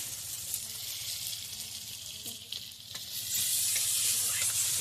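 Vermicelli sizzles steadily in a hot pan as tomato goes in, a close, continuous frying hiss with brief stirring scrapes that grows louder toward the end.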